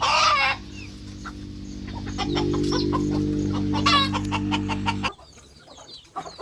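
Hens and roosters in a poultry yard cluck busily as they run about, with a loud squawk at the start and a steady mechanical hum underneath that cuts off near the end.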